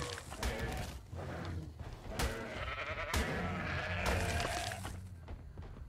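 Sheep in the video game Ark Survival Evolved bleat several times in quick succession, nasal, wavering cries near and fairly loud over a busy game background.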